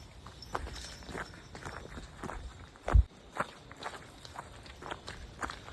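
Footsteps crunch along a wet forest trail toward a waterfall, a soft, steady walking rhythm with one heavier step partway through, fairly close and without talk.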